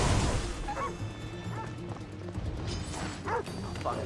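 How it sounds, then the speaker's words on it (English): A dog in the Assassin's Creed Odyssey video game barks and yips several times in short bursts, mid-distance, over steady game ambience and background noise, with a voice talking at times. "Because I don't want to kill the dog."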